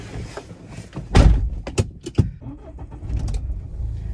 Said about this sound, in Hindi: जैसे अभी इंजन का नॉइज़ भी सुना चालू होने में, ऐसा कोई खास ज़्यादा आवाज़ नहीं आती है, स्मूथ साउंड है